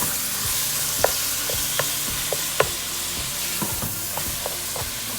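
Baked ziti ingredients being stirred and folded in a hot pan, giving a continuous sizzle with a scatter of scraping, clinking utensil taps at irregular intervals, close and with no voices.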